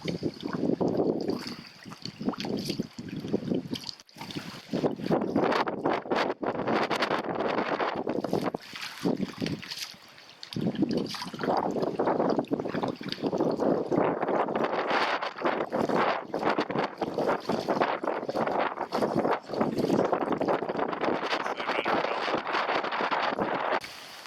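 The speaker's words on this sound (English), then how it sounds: "How far will we go to avoid the wind?" Wind buffets the microphone in a continuous roar on an open lake with whitecaps during a September canoe trip on the French River, dipping briefly before gusting strongly again.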